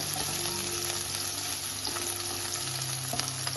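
Ginger and garlic frying in hot oil for a breakfast curry, a steady close sizzle with faint stirring scrapes running without pause and no talking.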